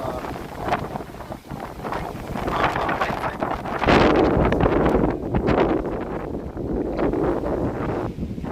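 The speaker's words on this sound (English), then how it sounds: "How windy is it, guys?" Heavy wind buffets the microphone in a continuous low rumble, swelling and easing in gusts throughout.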